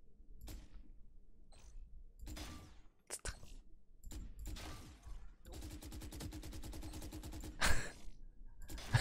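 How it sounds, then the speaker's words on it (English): Gunfire in the Valorant shooting-range test, with sharp isolated shots early, then a fast rapid-fire burst in the middle, set against quiet gaps and faint game sounds. "Now do shooting test. May I shoot?"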